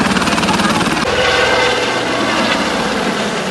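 Helicopter giving joyrides at the Hampi festival, a loud close rotor and engine roar with a rapid throbbing beat, steady for a few seconds.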